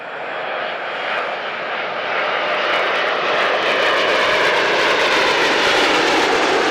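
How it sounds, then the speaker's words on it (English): An Airbus A320 jet roars loudly on takeoff, its broad engine rumble building and holding steady at close range, with no voices. "These people standing behind an Airbus A320 taking off"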